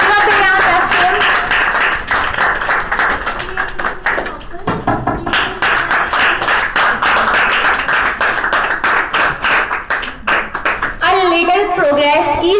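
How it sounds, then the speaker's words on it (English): Sharp hand claps from an audience at a monthly rewards and recognition ceremony, closely spaced and uneven. A voice and music rise briefly near the end. "big applause to him"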